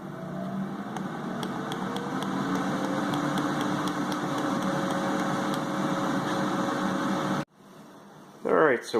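Ninja 4-quart ceramic air fryer running as it warms up, a steady close whir and fan hum with faint tonal whine, holding constant for several seconds before cutting off abruptly, followed by a brief voice.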